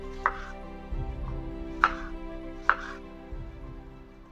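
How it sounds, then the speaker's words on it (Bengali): Knife cutting strawberries on a board, three sharp clicks spaced apart with softer rustling between them, close and quiet over a faint hum. "পুজোর জন্য ফল কাটা তো রেডি"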